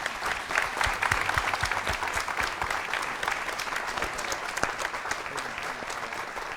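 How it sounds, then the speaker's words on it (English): A room full of people applauds panelists at a live-streamed community event about the Pilsen neighborhood; dense, steady clapping holds at an even level for the whole stretch, with no voices rising above it. "Let's give them a round of applause, please."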